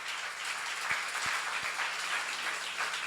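Steady applause from an audience at a church seminar, a dense even wash of clapping with no voices over it for about three seconds.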